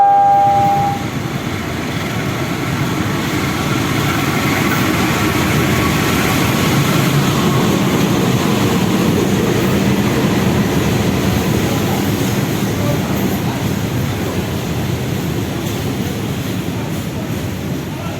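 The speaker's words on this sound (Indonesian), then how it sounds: "ini kereta api Sancaka akan persiapan masuk ya di jalur 5 teman-teman" The Sancaka passenger train rolls into the station platform with a steady, loud rumble of wheels and engine that builds and holds throughout, preceded by a brief whistle-like tone at the start.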